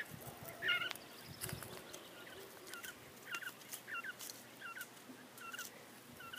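Japanese quail in an outdoor colony pen give short, scattered chirping calls against a soft, steady outdoor background, with a few louder calls standing out from quieter ones.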